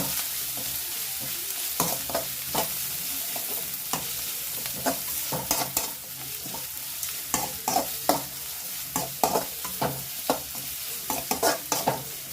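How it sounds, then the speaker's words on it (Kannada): Vegetables frying in hot oil for upma, a steady sizzle with repeated sharp scraping clicks of a spoon stirring the pan, close and alone. "ಅದೆಷ್ಟೋ ಒಂದೇ ಸತಿ ಹಾಕ್ಕೊಂಬಿಡೋಣ. ಫ್ರೈ ಮಾಡ್ಕೊಳ್ಳೋಣ ಚೆನ್ನಾಗಿ"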